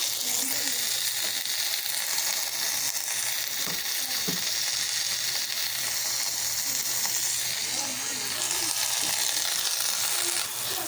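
A piece of flat bean-leaf paturi frying in hot oil in a pan gives off a steady, close, continuous sizzle that holds evenly without pause.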